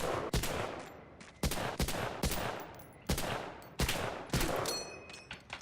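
Gunfire in Medal of Honor: Allied Assault, six sharp, loud shots fired one at a time about a second apart, each with a short decaying tail and no talking.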